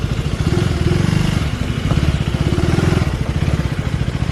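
A KTM motorcycle engine on a race track produces a rough, steady mid-pitched drone with rapid clattering pulses, loud and close throughout.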